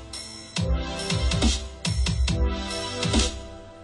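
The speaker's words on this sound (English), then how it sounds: "today I'm going to show you how to make EDM pads" An EDM synth pad built in Harmor in FL Studio pulses in a rhythmic pattern, thick sustained chords chopped into a few swelling stabs with a low thumping layer underneath, loud and alone.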